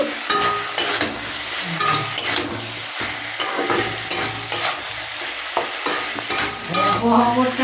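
Ridge gourd curry sizzles and frys in a pan while a spoon stirs it in steady scraping strokes, loud and close, with no talk over it.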